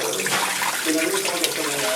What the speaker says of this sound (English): See that water is dripping